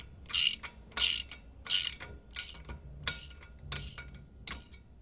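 A locking nut is tightened on an Outfitr EZ Fold e-bike platform rack, giving six crisp ratcheting clicks in a steady rhythm, close and fairly loud, fading slightly toward the end with no talk.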